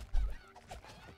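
Large chickens in the video game EcoGnomix cluck in a short, close flurry of a few quick clucks over a low, busy background.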